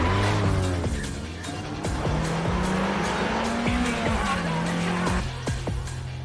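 Anime race cars pulling away in a mountain street race, engines revving and droning steadily with tire squeal and skidding, loud and continuous with no talking.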